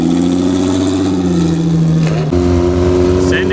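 A drag race car engine held at a steady, loud droning rev before launch, briefly dipping partway through and then resuming, with people talking over it.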